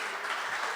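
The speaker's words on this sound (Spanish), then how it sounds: "aplauso para José Manuel ahí" Applause for José Manuel at a church gathering, a brief, steady wash of many hands clapping at moderate distance with no talk over it.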